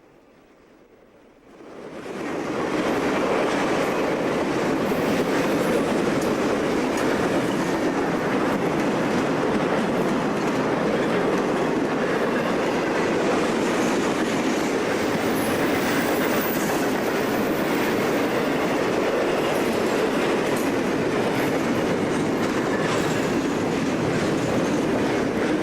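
An eastbound Conrail freight train bound for Conway Yard passes close by at Oak Harbor, a loud sustained roar of rolling wagons and wheels after a brief quiet start.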